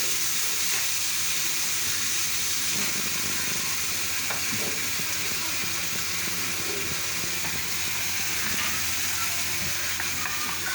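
Onions sautéing in hot oil in a pan for vangyache bharta, a steady, close sizzle with faint stirring scrapes throughout.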